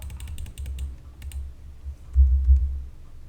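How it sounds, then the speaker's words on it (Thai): Quick, crisp keystrokes on a computer keyboard come in short bursts, then thin out. A low hum runs underneath, swelling briefly near the end. "เดี๋ยวผมพิมพ์ไปก่อน"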